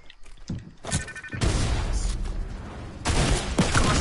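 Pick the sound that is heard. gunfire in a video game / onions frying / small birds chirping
gunfire in a video game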